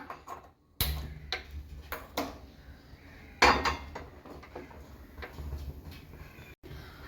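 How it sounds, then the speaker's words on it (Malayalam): A metal cooking pot of water clanks onto a stovetop: a few sharp knocks and rattles of cookware, with softer handling clinks between, fairly close in a quiet kitchen. "ആദ്യം തന്നെ നമുക്ക് അടുപ്പത്തേക്ക് വെള്ളം വെച്ച് തിളപ്പിച്ചെടുക്കാം"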